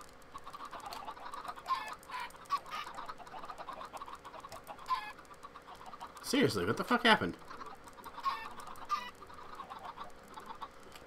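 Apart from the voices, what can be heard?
Minecraft chickens clucking, from a video game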